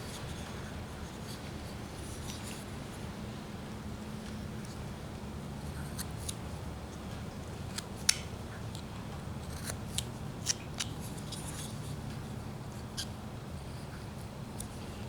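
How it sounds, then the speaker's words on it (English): A knife cuts into wood while carving a roughout, with quiet scraping and shaving strokes and occasional sharper clicks over a low steady hum. "Let me cut just a little bit deeper off of here."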